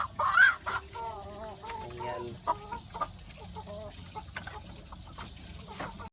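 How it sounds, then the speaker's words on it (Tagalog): Two hens on a small backyard farm clucking close by, a run of short, pitched clucks and squawks near the start that settle into scattered softer clucks, with a brief spoken word at one point. "Farm natin, dalawang manok."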